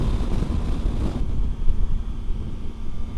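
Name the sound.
strong wind blowing at a scenic viewpoint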